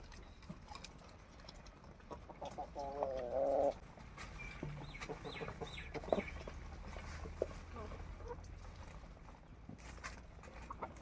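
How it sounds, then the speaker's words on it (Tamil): Chickens cluck softly in a cattle shed of a rural village after rain, a brief cluster of calls near the middle amid faint quiet ambience and occasional distant sounds. "கோழியெல்லாம் பாருங்கள்,"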